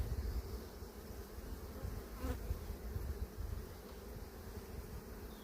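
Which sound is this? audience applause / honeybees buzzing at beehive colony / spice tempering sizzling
honeybees buzzing at beehive colony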